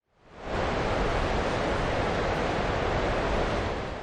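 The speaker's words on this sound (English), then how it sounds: "What you're hearing is the sound of millions of gallons of water rushing over the spillway of the Bonneville Dam" Massive steady roar of millions of gallons of water pouring over the Bonneville Dam hydroelectric spillway on the Columbia River, a dense, unbroken broadband rush that swells in over half a second and then holds loud and constant.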